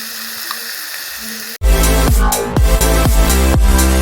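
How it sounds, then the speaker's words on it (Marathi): Papad roasting over a medium gas flame, faint background hiss suddenly giving way to loud crackling and sizzling with repeated sharp pops and scraping strokes. "पापड भाजताना थोडा गॅस मिडियमच ठेवायचा जास्त फास्ट ठेवायचा नाही आहे"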